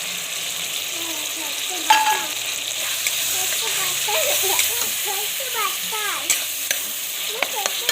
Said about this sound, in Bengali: এখন টমেটোগুলো ভাজা হোক।